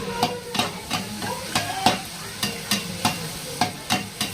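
A puri fries in hot oil with a steady sizzle underneath, punctuated by regular sharp ladle taps roughly every half second, close and fairly loud, with no voices.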